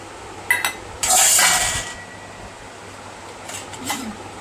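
Dishes and containers clink while a tiffin lunch box is packed for a father in a home kitchen: two short knocks, then a louder second-long burst of clattering, and later a few lighter clinks over a faint fan hum.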